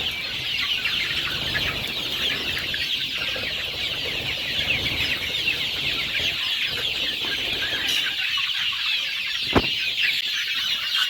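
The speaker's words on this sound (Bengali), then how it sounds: "দেখতে পাচ্ছেন কেমন মুরগিগুলা খাচ্ছে।" Native desi chickens clucking as they feed on greens and grass, a busy continuous chorus of clucks from several birds nearby, with a brief wing flap near the end and no voices.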